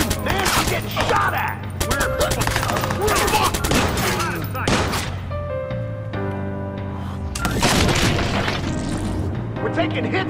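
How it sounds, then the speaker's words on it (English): Gunfire in the video game Watch Dogs, repeated bursts of shots and booming impacts over a steady game music bed, with a person talking excitedly over the action. "Man, I'm getting shot at!"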